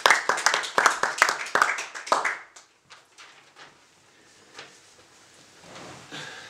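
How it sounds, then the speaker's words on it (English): A small audience gives a brief round of applause for a limerick reciter, a burst of sharp, fairly close claps over roughly two and a half seconds that drops off abruptly, followed by sparse soft taps and quiet room noise. "Give him a round of applause."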